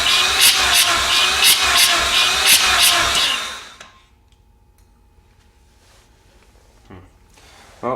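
A Mazda 13B rotary engine cranks on the starter during a compression test, giving a loud rapid rhythmic chugging for about four seconds that then stops and leaves near silence with faint clicks.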